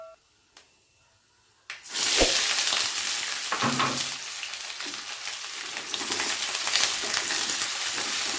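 Chopped onion dropped into hot spiced oil for dhaba-style mutton masala, bursting into a loud, steady sizzle after a quiet start and a couple of clicks, with occasional stirring scrapes, close by.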